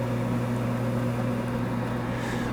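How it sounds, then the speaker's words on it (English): The cooling fan of a Kodak Ektagraphic 570AF slide projector hums steadily, a constant close whir with a low droning tone and no pauses. "So what you're hearing right now is the fan."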